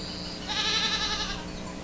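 A goat bleats in the video game The Count Lucanor, a single wavering, nasal cry lasting about a second, loud and close, with no talking over it.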